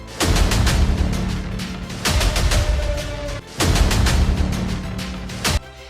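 Diwali firecrackers in Delhi burst in rapid crackling volleys, three loud dense barrages of popping bangs separated by short gaps, close and harsh, with no voices.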